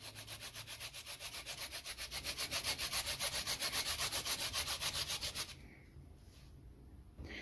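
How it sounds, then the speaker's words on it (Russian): A small carrot is rubbed against a fine kitchen grater in fast, even strokes, a close, soft rasping rhythm that runs steadily for several seconds and then stops, leaving near-silence with a faint clink. "Я буду тереть на мелкой терке."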